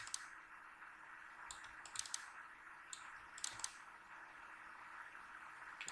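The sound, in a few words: computer mouse clicking while editing in Photoshop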